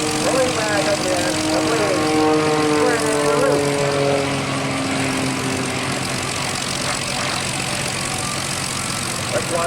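Aerobatic propeller airplane flying maneuvers at an airshow, a loud continuous droning engine whose pitch slides and shifts as it climbs and rolls, with talk over it.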